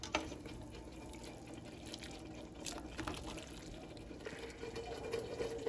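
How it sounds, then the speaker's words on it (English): Hot cooking water poured off partly cooked macaroni noodles in a home kitchen, a faint continuous splashing stream running several seconds with small drips and clinks. "I probably need to go ahead and pour this water off"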